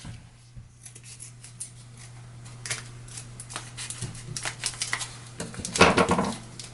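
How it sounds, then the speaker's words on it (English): Kitchen scissors snip open a plastic package of wonton wrappers: a run of quick clicking cuts and crinkling rustles that grows busier toward the end, over a steady low hum. "I'm never far from a pair of scissors."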